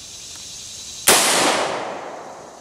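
A single sharp rifle shot from an H&R .223 or Marlin .22 LR at a busted computer mouse target: one loud, abrupt crack with a long fading tail over a steady low hiss.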